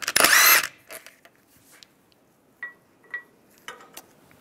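A power tool spins a 17 mm socket to loosen the wheel lock on the front wheel of a 1998-2010 Volkswagen Beetle, one loud burst at the start followed by a few faint clinks and taps of metal.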